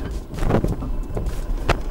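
A 2021 Isuzu MU-X 4x4 creeps down a steep, loose rocky off-road slope, giving scraping, crunching rumbles and a few sharp knocks over a low engine and wind noise, close to the microphone.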